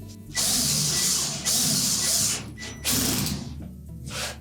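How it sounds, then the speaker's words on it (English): Retaining screws are driven and tightened into the back of a Whirlpool washer, with several bursts of whirring, ratcheting power-driver noise separated by short pauses, close and without talk. "Then we'll go to the back of the washer and reattach the retaining screws."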